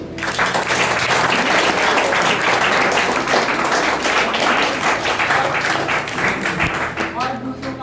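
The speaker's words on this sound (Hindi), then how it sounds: "इस बात पे तालियां होनी चाहिए।" A crowd at an anti-tobacco day event in a rehabilitation center breaks into loud, dense, sustained applause for about eight seconds, with voices audible underneath and the clapping thinning slightly at the end.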